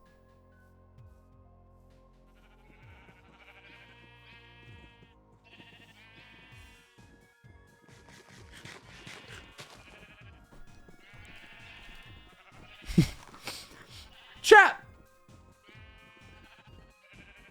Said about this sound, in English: It says here that these sheep are for sacrifice.